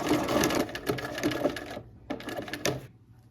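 A sewing machine stitches an appliqué in quick rattling bursts, stopping and starting with short pauses between runs, close and clear with no talking.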